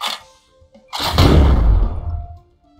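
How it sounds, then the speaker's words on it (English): Missile launched by a mech in the tactics game Ignited Steel: a brief click, then a loud explosive whoosh and crash that swells and slowly fades over about two seconds. "We're going to fire a missile."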